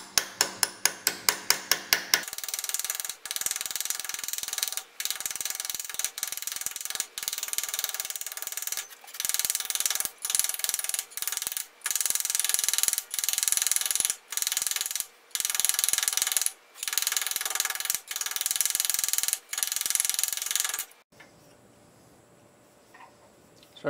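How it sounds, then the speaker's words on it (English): Rapid metallic hammer blows from a body hammer shaping a metal block held in a vise ring out in long bursts, sharp repeated strikes close by, pausing briefly between runs before stopping. "So I'm just going to take the body hammer and just kind of try to shape this a little bit."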